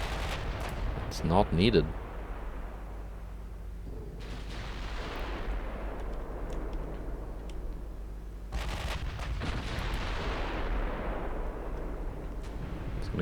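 Heavy naval guns booming in Ultimate Admiral Dreadnoughts during a 1910-era German cruiser battle, a couple of deep blasts with long rumbling tails under steady battle noise, while someone talks briefly.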